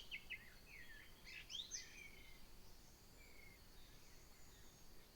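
Quiet outdoor ambience with a few bright bird chirps and short warbling calls, somewhat distant, clustered early and fading later.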